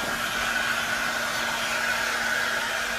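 A heat gun gently warms insulation inside a VW T6.1 camper van under conversion, producing a steady, close, continuous blowing whoosh with a faint motor hum and no talking.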